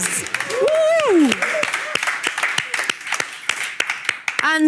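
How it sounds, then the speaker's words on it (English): Scattered applause and clapping from a crowd at a TV sports show, heard under a loud presenter's voice and an excited whoop. "Big round of applause."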